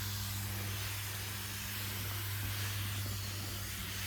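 Pesticide sprayer with a two-meter spray tube misting newly grown cabbage plants, a continuous broadband hiss over a steady low pump hum, even and unbroken throughout.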